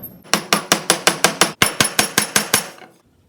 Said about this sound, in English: I think I'm just going to pound it through here with a mallet